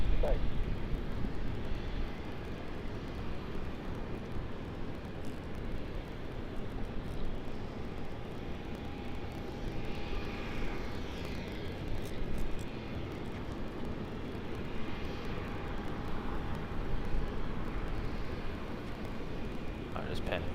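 An airliner bound for Kuala Lumpur takes off at night from Sydney Airport, its distant engines a steady broad roar, with a voice talking over it.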